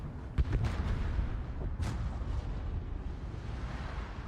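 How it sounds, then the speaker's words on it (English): Explosive torpedo hits striking a ship in a warship naval battle video game, a couple of deep booming blasts over a constant loud rumbling battle backdrop, with no talk. "2 more torpedo hits."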